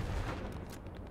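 Suppressing gunfire in the World War II shooter Hell Let Loose: a rapid spread of shots and cracks, loud at first and easing slightly over a second of sustained battle noise, with no speech.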